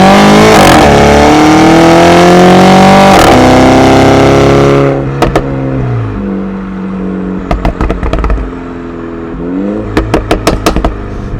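2016 MINI 5-door Carbon Edition engine revving loud and close, a rising roar that drops away, followed by sharp crackling pops and bangs from the exhaust on the overrun, then another short rev with more crackles.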